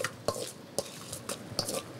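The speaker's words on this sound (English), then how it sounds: "And let's literally just stir it all together." A utensil scrapes and clinks against a bowl in a steady rhythm, several quiet strokes stirring a vinegar and sugar sauce close up.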